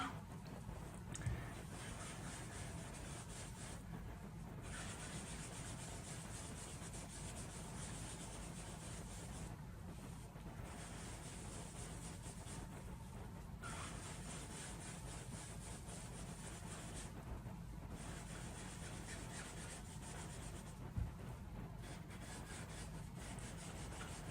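A sponge blending tool on clean sponges rubs ink across white card in close, steady scratchy strokes, with a few brief pauses between passes.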